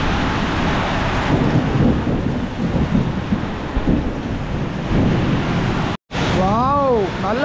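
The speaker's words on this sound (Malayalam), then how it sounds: "സൂപ്പർ മഴയാണ് പെയ്യുന്നത്" Heavy rain pours in a loud, continuous roar during a storm. A brief dropout near the end is followed by a voice speaking over the downpour.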